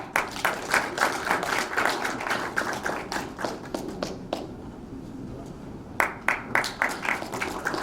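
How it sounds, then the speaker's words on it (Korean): Clapping from the audience at an academic policy conference opening ceremony as the keynote speaker is welcomed. It is moderately loud and dense, thins out and nearly stops midway, then returns in a short final burst. "기조연설을 해주실 조대엽 정책기획위원회 위원장님을 큰 박수로 맞이해 주시기 바랍니다."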